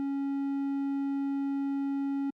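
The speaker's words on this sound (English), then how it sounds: "a triangle wave" A 3xOsc synthesizer oscillator sustains a steady triangle wave, a mellow tone with faint upper overtones, for a little over two seconds before stopping abruptly.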